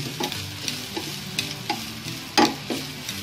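Beef and potatoes frying in a pan and stirred, a steady sizzle broken by repeated scraping strokes of a utensil at an uneven rhythm, close up with no talk.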